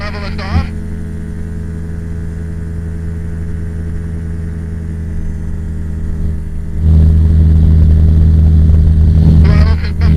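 A small single-engine airplane in flight on a circuit, its steady droning engine loud and close throughout, with a voice talking over it before the engine tone rises and swells toward the end.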